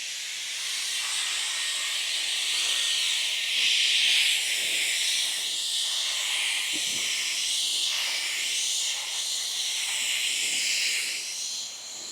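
An electric handheld air blaster run at full power, blowing out debris with a loud, continuous rushing hiss of air that stays steady for the whole stretch, close up and with no talking.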